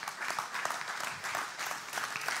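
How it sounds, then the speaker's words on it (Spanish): Church congregation clapping in praise during a Spanish-language sermon, a steady continuous patter of many hands at moderate distance, fairly faint. "Dele palmas al Señor, hermano."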